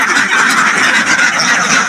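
A large flock of farm ducks quacks in a dense, continuous chatter, many overlapping calls close by and loud with no pauses.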